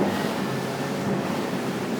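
Quintrex Freestyler 530 boat with a Yamaha F115 outboard turning through metre-high choppy water, giving a steady broad rush of water and wind noise with low rumble throughout, no voices.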